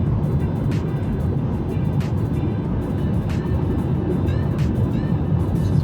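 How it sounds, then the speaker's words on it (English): A Toyota Prius Prime pulls up an on-ramp in sub-freezing weather, giving a steady, loud road and cabin rumble with tire roar that holds level throughout, plus a few faint passing swishes. "Now we're going to accelerate from this on-ramp without cruise to see if maybe it keeps the engine off or not."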